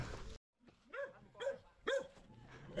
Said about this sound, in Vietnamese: mấy em gâu gâu này thấy động là sủa a quá các bạn